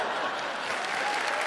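Studio audience at a televised magic show breaking into dense, even applause, many hands clapping continuously at a steady loud level.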